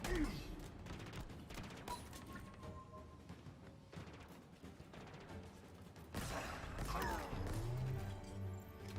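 Gunfire shooting a barrel in Halo Infinite: rapid rattling bursts and impacts run through the scene. A heavier crash hits near the end, mixed with game voices and ambience.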